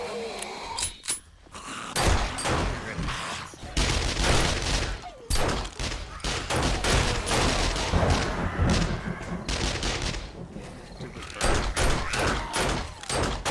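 Submachine gun fire rattles through horde night in the PC game 7 Days to Die: rapid, close bursts repeat almost nonstop, layered with thuds and clanks, with voices occasionally talking underneath.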